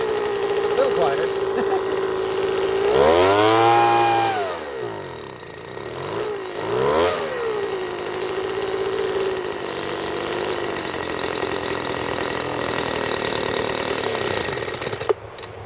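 A small two-stroke leaf blower engine under repair starts and runs, with its pitch rising and falling through revs near the start before settling into a steady idle drone that continues to the end.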